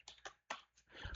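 Fast typing on a computer keyboard during a security lab session, a few crisp, close key clicks in quick irregular succession, quiet and without talk.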